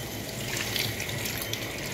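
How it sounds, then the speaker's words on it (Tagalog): A splash of water poured into a cooking pan over string beans for adobong sitaw, a soft continuous gushing that blends into a constant background rumble. "Lagyan natin siya ng tubig."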